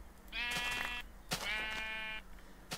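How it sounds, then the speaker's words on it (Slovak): A sheep in an old version of the Minecraft video game gives two close, clear wavering bleats, followed by a few short clicks. "zatiaľ poviem skúsiť zabiť túto ovcu"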